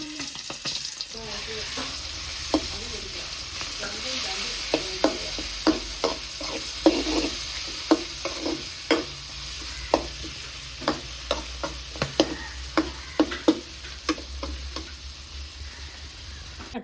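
A spatula scrapes repeatedly through a spice paste sizzling in a hot pan, giving a steady hiss punctuated by regular stirring scrapes.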